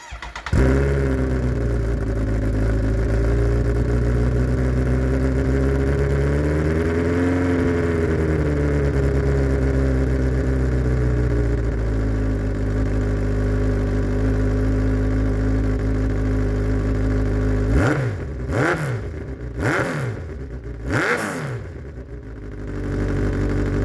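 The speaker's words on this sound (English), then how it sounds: "the exhaust was noisy, and that's with the baffles in" A Kawasaki Z1000 motorcycle with a noisy exhaust, baffles in, idles with a steady low rumble, rises into a rev and settles, then several sharp throttle blips bark out near the end.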